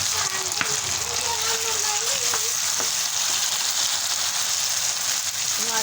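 Tomatoes dropped into a pan of frying potatoes and cauliflower set off a loud, steady sizzle that fills the whole stretch, with faint stirring scrapes and a voice speaking briefly underneath.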